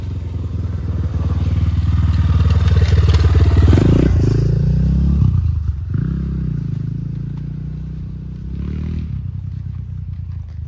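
A motorcycle passes along a road near a lake, its engine rising to a loud, close peak around the middle and then fading away, with a second, fainter engine swell near the end.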